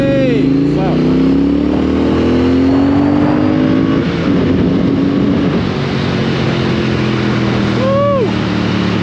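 A Triumph Thruxton 1200R motorcycle being ridden on the road, its engine droning steadily and loudly with shifting pitch as it accelerates and changes gear, while a rider talks over it and wind rushes past.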